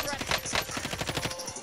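Rapid bursts of gunfire in Call of Duty: Modern Warfare Warzone crackle in a steady automatic rhythm, close and loud, with muffled voices mixed underneath.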